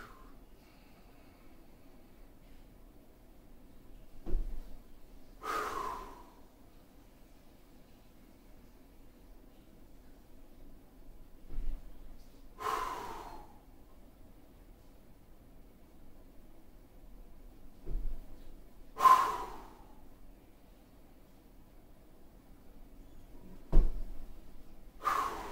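Heavy breathing during a rotational core workout, several deep exhales spaced several seconds apart with faint inhales between, close and alone.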